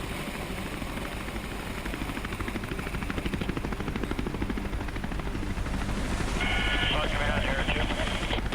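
RCMP helicopter lifting off and climbing straight up out of a canyon, its rotor thudding in a fast, steady chop that grows louder and denser toward the end, close and continuous.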